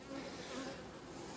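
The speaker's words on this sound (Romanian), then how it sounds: "Uite, au venit albinuțile cu polen." A dense, continuous buzz of many honeybees humming together at a hive carrying pollen, fairly faint and steady throughout.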